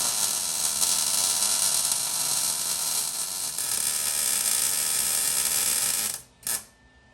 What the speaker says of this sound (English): So now I gotta put a little more weld on these things so they stay there.